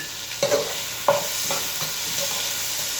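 Red onion sizzles as it fries in a pan, a steady close hiss broken by a few stirring scrapes and clatters, with no talk.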